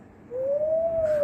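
A voice imitates an owl call with one rising and sustained hoot-like tone, fairly loud and close, alone without other talk.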